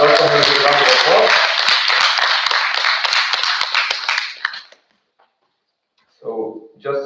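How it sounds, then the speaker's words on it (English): An audience at a conference claps loudly to welcome a candidate on stage, with a close, dense burst of applause and some cheering voices at the start. The clapping stops abruptly, leaving silence before someone begins speaking. "Please welcome her with a round of applause."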